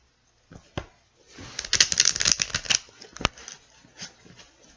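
Tarot cards shuffled close up: a few sharp taps and card snaps, then a riffling burst of papery flutter, followed by softer shuffling handling.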